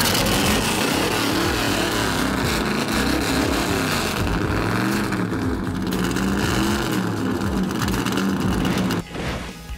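A 1970 Plymouth Barracuda with a factory 500-plus horsepower engine at a street rod show, revving loud and close with a deep rumbling burble that rises and falls, then drops off sharply near the end.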